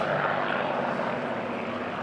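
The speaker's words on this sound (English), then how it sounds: "But just look at this aircraft." A Spitfire fighter flying at the Duxford Flying Legends airshow, heard as a steady, loud engine drone that fills the whole stretch with no break, and nobody talks.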